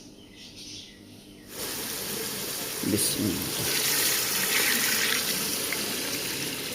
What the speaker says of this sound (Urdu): تو پانی ڈال دیتے ہیں اس میں